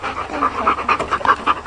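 A Siberian husky pants close by in quick, even, rhythmic breaths, loud and steady for the short moment.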